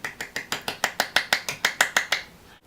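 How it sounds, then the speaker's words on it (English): A person clapping with one hand makes a quick, evenly spaced run of about a dozen sharp, crisp slaps, close and alone, then stops. "I can clap my hand with one hand."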